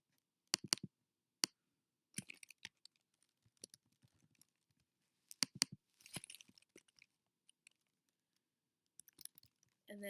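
Short bursts of typing on a computer keyboard, crisp plastic key clicks arriving in uneven clusters separated by pauses, close and fairly quiet with no voices.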